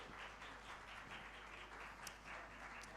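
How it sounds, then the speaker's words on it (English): Applause from a convention audience, a steady continuous wash of many hands clapping, fairly distant and even in level, with no voices over it. "Let's give them a big round of applause."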